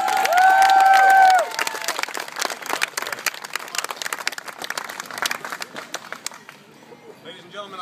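A crowd at a Renaissance faire applauds and cheers after a juggling trick, starting with a burst of loud clapping and shouts that thins into scattered claps before a voice speaks near the end.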